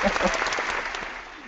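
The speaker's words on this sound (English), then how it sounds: "him a round of applause" A small audience gives a short round of applause during a home and garden talk session, a brief wash of clapping that fades over about a second and a half, with a voice faintly present at the start.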